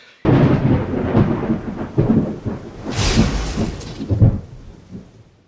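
Deep, loud thunder rolls and rumbles continuously, swelling and fading in several heavy surges with a sharper crackling burst midway, and faint rain beneath.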